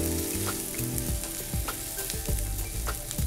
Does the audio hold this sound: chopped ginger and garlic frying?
yes